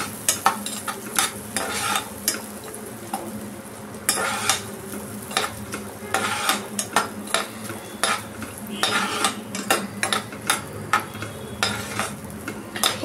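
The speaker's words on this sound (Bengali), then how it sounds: "এটা ফ্রাই হবে যতক্ষণ না এটা একটু লালচে মতো হয়।" Apple pieces frying lightly in a pan, stirred with a utensil that scrapes and clinks against the metal in uneven bursts over a low continuous sizzle; no voices.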